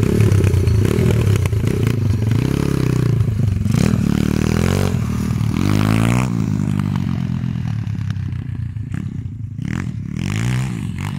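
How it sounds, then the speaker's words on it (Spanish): A 140cc XL pit bike engine revs loudly and close, its pitch sweeping up and down in repeated throttle blips with a raspy, rattling edge and no talking. "Parece que se escucha hasta un poquito mejor la moto."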